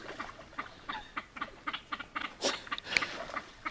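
Irregular splashing and pattering of water at a reservoir inlet, with several stronger splashes mixed among lighter ones, fairly close and continuous.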